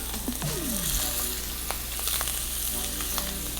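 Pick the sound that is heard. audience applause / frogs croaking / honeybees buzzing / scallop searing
scallop searing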